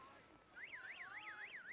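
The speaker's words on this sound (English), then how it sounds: "But the buzzer goes" A warbling electronic siren signals the start of an under-16 rugby league match, rising and falling in a steady repeating sweep. It is faint and distant against open outdoor ambience.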